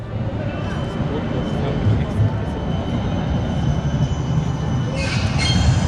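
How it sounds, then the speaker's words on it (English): An electric trolley rumbles past nearby in Bern's old town, Switzerland, with a steady low roar, building slightly, and a brief high squeal near the end. "there goes one trolley there, electric train."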